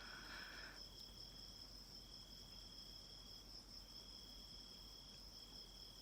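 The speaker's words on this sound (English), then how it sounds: "I don't know if you guys can hear the crickets. There are a lot of crickets right now." Crickets chirping at night in a steady, continuous high trill, faint and unbroken, with no voices over it.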